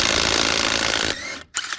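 A DeWalt brushless 20-volt impact wrench loosens torqued bolts with a loud, steady rattling hammer that runs for about a second, eases off, then stops abruptly before a brief metallic clatter.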